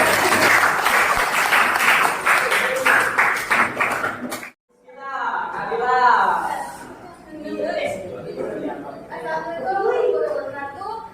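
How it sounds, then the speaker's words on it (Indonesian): Classroom applause for a student group after its discussion presentation: a few seconds of steady clapping mixed with chatter, which stops abruptly and gives way to someone speaking with light laughter around her. "Kita tepuk tangan buat"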